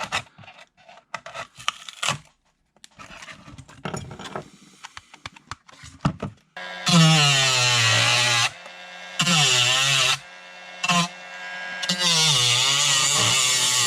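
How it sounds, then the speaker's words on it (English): A power tool cuts out an RC jet boat hull to make room for the motor: scraping and rasping at first, then loud, sustained high-pitched whining bursts with short gaps between them, close up and with no talk. "Okay, so I got it all cut out enough to fit the motor."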